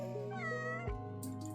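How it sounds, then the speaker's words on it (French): A cat meows in the life-simulation game inZOI, a clear rising and falling call heard over soft, steady background music, followed by a brief click and faint chimes. "On peut papouiller le gros chat?"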